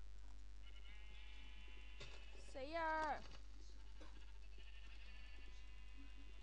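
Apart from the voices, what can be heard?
sheep bleating in the video game Minecraft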